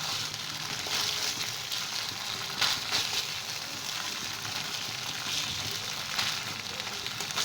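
Bhola fish fry in a pan of oil with a steady, close hiss of sizzling that holds throughout, broken by a few brief crackling swells.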